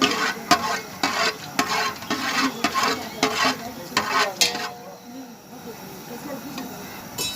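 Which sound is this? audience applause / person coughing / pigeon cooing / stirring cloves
stirring cloves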